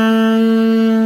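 A single saxophone note is blown with the mouth corners left unsealed, so a steady, breathy and slightly buzzy tone carries leaking air. It is loud, close and held for about a second.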